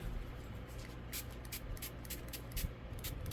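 A handheld water spray bottle mists a sheet of paper in several quick, hissing bursts, some closer together than others, quiet and close with no talking.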